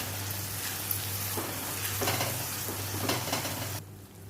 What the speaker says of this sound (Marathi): त्यानंतर ही आलं लसूण कोथिंबीर कढीपत्ताची पेस्ट आहे व्यवस्थित असं परतून घेऊया